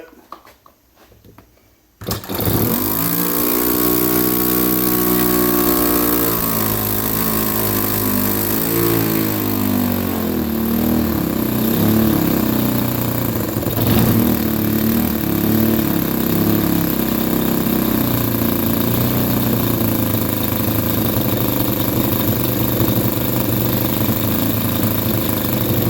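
A YS 1.40FZ four-stroke model airplane engine, freshly refreshed, starts after a brief quiet moment and then runs continuously with a loud, steady buzzing roar close by, its pitch shifting slightly as it is leaned out.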